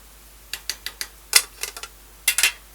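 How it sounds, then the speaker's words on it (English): Light scraping and clicking as a fork fluffs cooked chicken biryani rice in a pot, a run of short, sharp, close ticks in small clusters against a quiet background. "I keep fluffing it with a fork."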